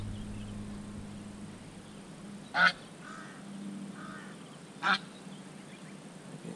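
Two short, loud honking calls from free-range geese on a farm in Thailand, a couple of seconds apart, over a steady low hum and quiet outdoor background.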